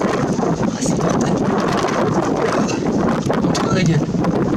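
Strong wind outside on a snowy January day in Sallanches, buffeting the microphone with a loud continuous roar and gusty rumble throughout.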